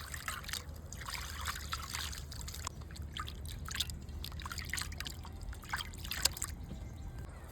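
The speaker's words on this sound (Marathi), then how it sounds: "नाही, आपण परत धुवून घेऊ स्वच्छ पाण्याने." Clean water runs and trickles while goat brains are rinsed for a masala fry, giving a steady close splashing and dribbling with irregular drips, and no voices are heard.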